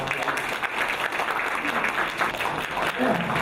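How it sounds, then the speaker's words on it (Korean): Steady crowd applause fills a board launch ceremony for the Daejeon centennial commemoration society, a dense, continuous wash of clapping from a gathered audience with some voices mixed in. "큰 박수로 이 시작을 알리겠습니다."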